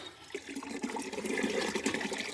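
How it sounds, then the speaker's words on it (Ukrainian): Drinking water drawn from a street water pump gushes and splashes steadily nearby, rising slightly in strength as it fills a container. "Я постійно тут набираю водичку. Я вже з цією колонкою"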